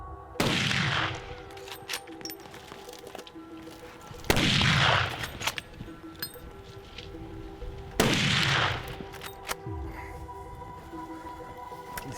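Three loud rifle shots from a Marlin 45-70 lever gun while hunting elk, each a sharp boom with a long rolling echo, spaced about four seconds apart outdoors.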